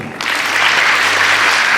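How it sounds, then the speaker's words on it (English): An audience at a primary school prefects' investiture in Nairobi claps for the newly invested student leaders. The applause is steady, dense and fairly loud, building quickly and holding. "they deserve a better clap."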